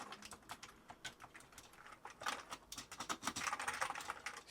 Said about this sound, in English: This is actually the first time we've tried the keyboard.